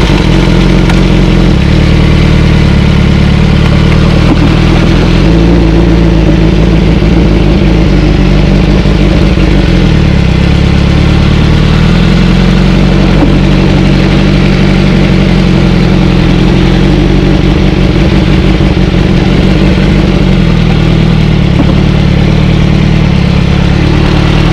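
A BMW S1000RR sport motorcycle rumbles loudly and continuously from close by as it pulls away into city streets, a dense low engine drone with wind buffeting throughout and no clear speech.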